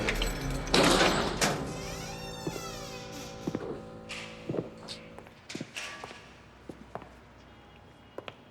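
A heavy prison door is opened with metallic clanks and a sliding scrape, followed by scattered footsteps and knocks in a reverberant corridor.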